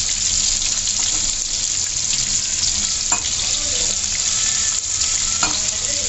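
Whole garlic cloves fry in hot oil for Bengali mutton kosha, a loud, dense, continuous sizzle and crackle with occasional sharper spits, close and steady throughout.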